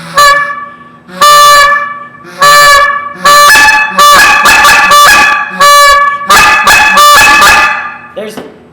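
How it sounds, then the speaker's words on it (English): A goose call blown in a run of loud, close honks, some single and some in quick doubled bursts, ending with a softer note. "That's about all I can do on a goose call"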